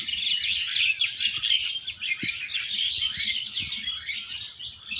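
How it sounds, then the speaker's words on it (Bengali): Birds chirp and twitter continuously in a quiet, secluded spot near a temple, a dense busy chorus of high calls, moderately near, with no voices. "সুন্দর নিরিবিলি নির্জন একটি জায়গায় পাখির কলকাকলি কিচিরমিচির সাউন্ড আপনারা শুনতে পাচ্ছেন।"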